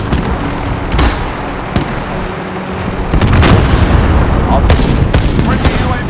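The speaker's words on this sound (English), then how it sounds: "Allied cruise missile away." Cruise missile blasts in a first-person shooter game, a dense run of booms and sharp cracks, loud and close, with heavier rumbling in the second half and game voices over it.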